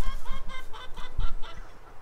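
Chickens cluck steadily near a coop, a run of close, repeated clucks and squawks over a constant outdoor background.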